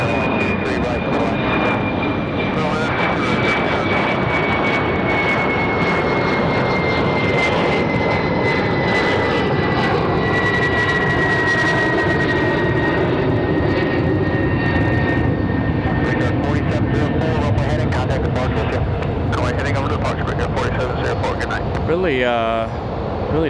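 Embraer E-175 jet in a steep takeoff: a continuous, loud engine roar with a slowly falling whine layered over it, holding strong throughout before a brief rustle at the end.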